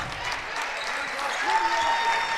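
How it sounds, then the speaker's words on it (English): Riverview fans applaud in a high school boys basketball gym, a soft, even wash of clapping heard at a distance beneath a commentator's voice. "great applause from the Riverview faithful here in attendance"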